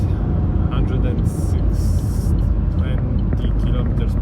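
Opel Crossland 2024 cruising on the highway near 120 km/h, a steady, loud broadband road and wind roar with tyre rumble filling the low end throughout, a voice talking over it.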